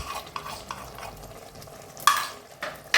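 Fried rohu fish going into a simmering sweet-sour curry, a soft bubbling simmer broken by a few sharp clinks and scrapes of a utensil against the pan, close and moderately quiet.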